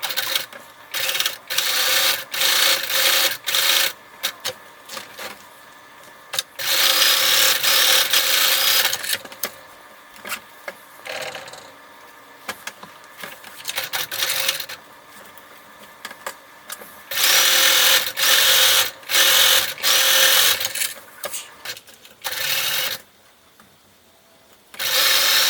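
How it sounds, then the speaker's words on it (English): A sewing machine top stitches a fabric beach bag, its rapid mechanical whir starting and stopping in bursts of varying length with brief quiet gaps between runs. "Remember to top stitch on both sides."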